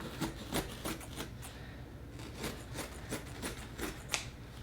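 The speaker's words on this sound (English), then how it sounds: "so just going to cut this excess off" Scissors trim excess material off a trunk being refinished, making a series of quiet, close snips and rustles at an uneven rhythm.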